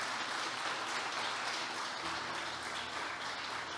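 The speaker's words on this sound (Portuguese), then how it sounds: "Uma salva de palmas, esse Deus bondoso" A church congregation applauding during a sermon: thick, continuous clapping from many people, evenly loud throughout with no gaps.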